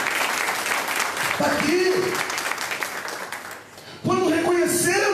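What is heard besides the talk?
congregation applauding in church service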